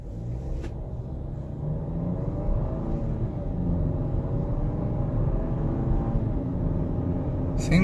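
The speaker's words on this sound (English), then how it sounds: "when I get off of it, let me see if I can feel the turbo kick in and what RPMs" From inside the cabin, a Jeep 2L turbocharged four-cylinder pulls away from a traffic light, its low engine rumble rising gradually in pitch and loudness as it gathers speed.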